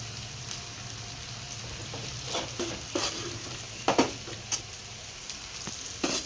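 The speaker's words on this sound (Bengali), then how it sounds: "সবজির উপর আমরা ভাতটা দিয়ে কিছুক্ষণ নেড়ে দিলেই মোটামুটি ফ্রাইড রাইস রেডি" Rice being stir-fried over vegetables in a pan for fried rice, a steady low sizzle with soft scraping and stirring clatters that grow busier toward the end, no voices.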